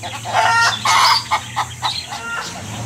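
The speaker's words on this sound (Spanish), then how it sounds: "qué triste cantan esas gallinas." Hens cluck and sing in drawn-out, plaintive calls, a close series of rising and falling squawks against a low steady background hum.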